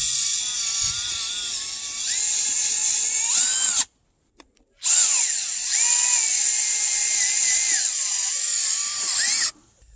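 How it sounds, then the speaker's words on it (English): Steady high whine of a bulb drill boring post holes in rocky garden soil, with pitch wobbling under load, one short silent gap in the middle, then the drill resumes and stops. "So this is called a bulb drill, and I use it to put posts in."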